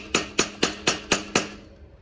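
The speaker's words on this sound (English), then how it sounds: "I personally take my piece of wood and my hammer. Not that the nut won't pull it on, but I give it a little tap" A hammer strikes a block of wood held against a part to seat it during the build of a four-stroke engine on a Kent Seachange, six evenly spaced, sharp, close taps over about 1.5 seconds, each fading quickly.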